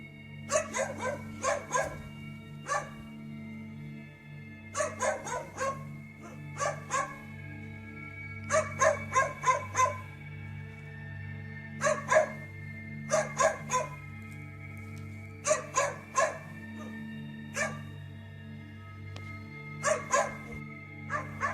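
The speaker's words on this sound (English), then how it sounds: "A dog is barking at something in the darkness." A dog barks at night in the darkness, repeated bursts of two to four loud nearby barks spaced a few seconds apart over a steady low hum, with no talking.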